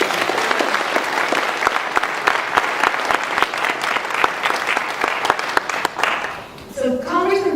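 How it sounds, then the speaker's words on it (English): A crowd at a congressional reception breaks into steady applause, many hands clapping in a dense patter that fades out near the end as a voice starts speaking. "One more round of applause for us"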